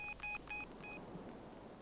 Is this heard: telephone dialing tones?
yes